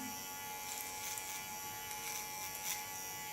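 Electric hair clippers buzz steadily up the nape during a bob haircut, a close, continuous high-pitched hum with slight shifts in tone as the blade moves, no talking.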